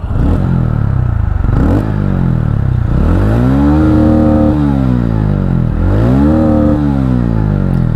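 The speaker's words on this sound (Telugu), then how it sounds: "ఒకసారి ఎగ్జాస్ట్ సౌండ్ వినండి." A red TVS Ronin 225 base-model motorcycle revs loudly up close, its exhaust rising and falling through several throttle blips over a steady idle, with no talk.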